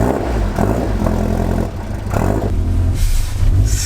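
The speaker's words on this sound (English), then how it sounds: "So start the engine. Hopefully it starts." A Lotus Esprit sports car engine cranks and catches, then revs loudly up and down with rough mechanical clatter, close by and unbroken.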